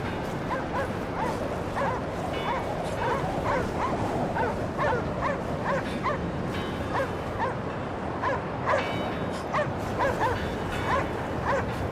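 Yappy dogs in the video game Cryostasis bark and yip in a steady, rapid string of high, repeated yaps over a dense noisy background, continuing throughout.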